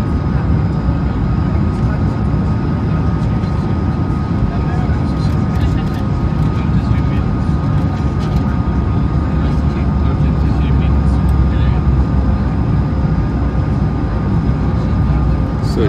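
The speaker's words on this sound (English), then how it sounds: "So this is my first trip on board this the latest Airbus, the Airbus A220-300" Steady, loud cabin roar inside a Swiss International Air Lines Airbus A220-300 (Bombardier CS300) descending to land at Geneva through very low cloud, a dense broadband engine and airflow rumble holding constant throughout with no talk.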